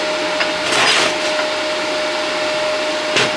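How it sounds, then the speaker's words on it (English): A steel shooting plate is welded on a damaged shoulder with a steady, loud, close buzzing hiss that holds constant throughout, with small crackling swells. "We'll weld this shoulder."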